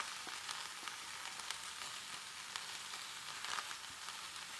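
Grated coconut frying with ivy gourd in a pan, a steady soft sizzle with light scraping from stirring, close and continuous with no voices.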